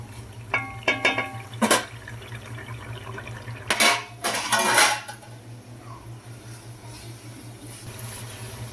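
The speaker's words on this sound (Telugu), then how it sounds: "ఇప్పుడు ఇది పచ్చివాసన పోయేంత వరకు ఒక రెండు నిమిషాలు అయితే వేయించుకుందామండి చక్కగా" Ginger-garlic paste frying in a pan for a tamarind fish curry, a quiet background sizzle under clustered metal clinks and scrapes of a utensil against the pan, with a louder scraping burst midway, no voices.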